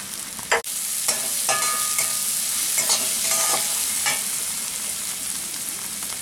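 Onions sizzle and fry in a pan after a pinch of salt goes in, with steady crackling, a sharp clatter near the start and repeated stirring scrapes, close and clear with no voices.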